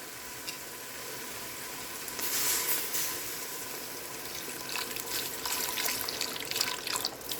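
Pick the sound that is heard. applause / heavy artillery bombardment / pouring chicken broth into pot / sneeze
pouring chicken broth into pot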